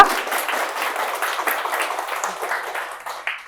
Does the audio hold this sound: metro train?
no